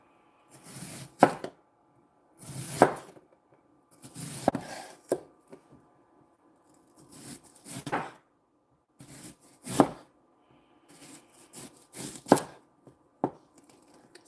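A knife chops onion on a board in bursts of quick, close cuts, with short pauses between each run of strokes.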